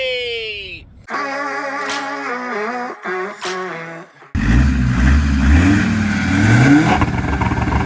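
Land Rover Defender TD5 diesel engine revving through a bespoke dual-exit 3-inch stainless steel exhaust, with repeated rising and falling revs, then a louder, rougher close-up burst of engine roar.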